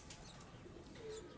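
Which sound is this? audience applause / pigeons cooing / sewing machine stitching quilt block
pigeons cooing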